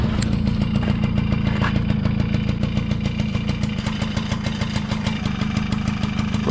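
A Yamaha QT50 moped with a 60cc engine idles close by after starting, a steady rapid putter with a clattery mechanical rhythm that holds throughout without talking.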